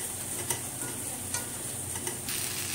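Eggs fry in a pan for egg pepper fry, a steady soft sizzle close by with a few light clicks of a utensil as the eggs are turned.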